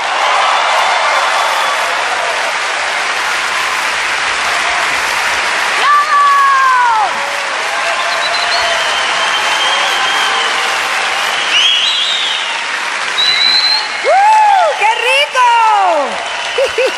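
Concert audience applauding a singer at a festival tribute show, sustained dense clapping throughout, with a voice speaking over it and some whistles near the end.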